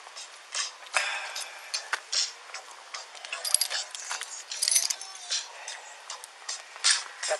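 House keys jangle as they are handed over, making light metallic clinks and rattles in short, irregular bursts that stay close and fairly quiet.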